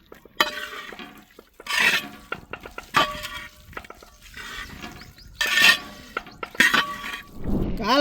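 A spoon stirs fried mushroom masala in a pan, giving intermittent scraping, clattering strokes with soft sizzling between them, close and fairly quiet, in irregular bursts.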